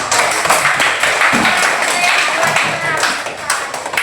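A classroom group claps together at a teacher's invitation during a lesson, bursts of hand claps with uneven taps and thumps, fairly loud and close, some voices mixed in.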